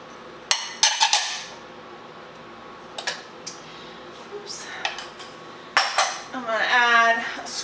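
Carrots and potatoes drop into a pot for gluten-free beef stew, giving a few sharp clattering knocks and thuds against the metal, with a denser burst of tumbling clinks near the end in a quiet kitchen.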